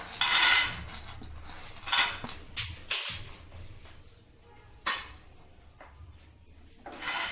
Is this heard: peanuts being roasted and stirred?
yes